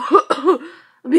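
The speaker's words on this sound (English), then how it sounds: "Cough behind these signs." A person gives a few short, loud, voiced coughs and throat-clearing sounds up close during Parkour Map gameplay, ending after a brief pause with one more rasp.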